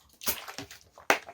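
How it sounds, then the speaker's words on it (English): Water sipped from a bottle, close and quiet: a few soft wet slurps and gulps with a sharper splashy sip near the end. "Let me just grab a sister sip from my sister water."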